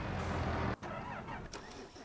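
A tractor engine in the Farming Simulator 25 video game cuts out from a loud low rumble, then starts again with a mechanical crank and settles into a steady mid-pitched idle with a few clunks.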